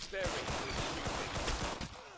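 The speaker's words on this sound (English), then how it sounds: "Very good shooting." Quick volleys of gunfire in a video game crackle in a fast, repeated burst, faint and somewhat distant, with voices mixed into the game sound.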